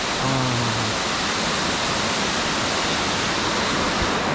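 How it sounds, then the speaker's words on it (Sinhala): Steady, loud rush of a waterfall flowing between trees in Sinharaja Rainforest, Sri Lanka, fills the clip, a broad constant roar with no voices. "නුක ගස් දෙකක් අස්සෙන් තමයි වතුර ආන්නේ මේකේ"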